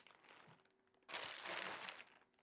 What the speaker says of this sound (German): Ich hole die auch gleich noch alle aus den Tüten raus.